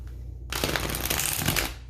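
A brief, crisp riffle of tarot cards being shuffled, a quick fluttering burst lasting about a second after a quiet start.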